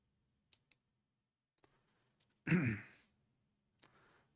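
Mouse clicks on a computer's uninstall button: a few faint, separate clicks spread out, with a louder breathy burst in the middle and another click near the end, in an otherwise quiet room.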